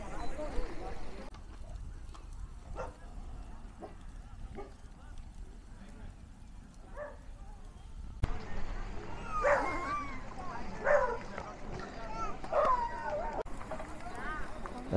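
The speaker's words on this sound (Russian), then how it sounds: "Собаки защищают территорию, к нам они привыкли." Dogs guarding their territory in a forest near Jerusalem bark in repeated sharp, mid-distance volleys, growing louder and busier in the second half, with people talking throughout.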